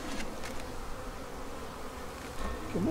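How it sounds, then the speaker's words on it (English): Honey bees buzz around an open beehive during a hive inspection, a faint, steady droning hum that stays in the background throughout and swells slightly near the end. "there's quite a few bees right there"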